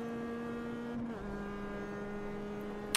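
A race car in the iRacing simulator running down the start-finish straight, a steady high engine drone that drops pitch once with a gear change, then holds level, no talk.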